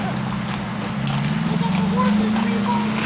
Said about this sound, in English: Oh, we got the horses on us now, too. They got the horses.